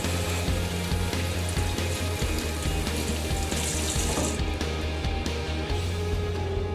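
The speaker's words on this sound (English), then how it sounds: "And then also I'm going to just rinse it all off." An onion is rinsed under a running kitchen tap, the water pouring steadily and fairly loud throughout with a sink splashing quality and a low hum beneath, no talk.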